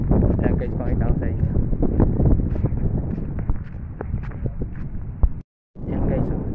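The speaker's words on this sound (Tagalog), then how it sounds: "hangin, lakas ang hangin" Strong wind on an Abu Dhabi shoreline at low tide buffets the microphone in a constant rough roar, with scattered clatters and what may be footsteps, and a brief dropout near the end.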